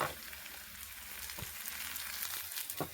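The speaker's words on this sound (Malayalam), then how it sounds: "സവാള ഇഞ്ചി പച്ചമുളക് ഇടുകയാണ്" Chopped onion, ginger and green chili frying in a pan, giving a steady, fairly quiet sizzle and crackle throughout with a few faint stirring knocks.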